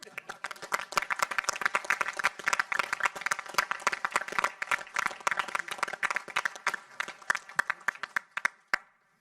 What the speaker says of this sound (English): I think we at least should have a round of applause.